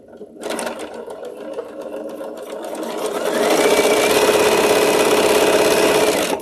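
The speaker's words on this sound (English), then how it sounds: "I sew straighter when I am sewing fast." A sewing machine pieces a quilt block, starting abruptly with a steady whirring hum and rising to a fast, loud, continuous run as the stitching speeds up.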